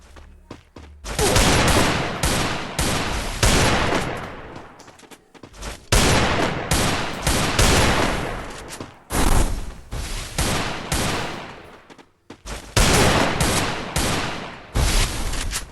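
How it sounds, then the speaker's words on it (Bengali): Desert Eagle pistol fire in the shooter game Free Fire, loud bursts of rapid gunshots in several clusters separated by short pauses, no talking. "ডেজার্ট ইগল নিয়ে নেই, ওকে হেডশট মারা ট্রাই করব।"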